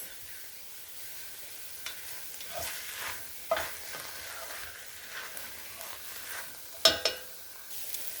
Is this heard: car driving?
no